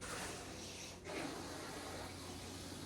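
Steady broadband rushing of water flowing through house pipes, loud and continuous, with a brief dip in the middle before it surges on.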